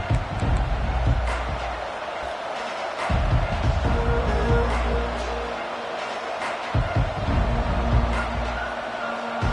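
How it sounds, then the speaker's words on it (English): A steady roar of a large stadium crowd at a college football game between Utah and Wisconsin fills the air, with low rumbling swells and scattered bursts of noise throughout. "This crowd bringing the energy and noise early."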